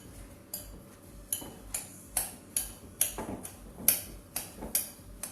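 Kimchi ingredients with mirin are stirred in a bowl, a run of sharp, evenly spaced clinks and taps of a utensil against the dish, about ten strokes, close and fairly loud, with no talking.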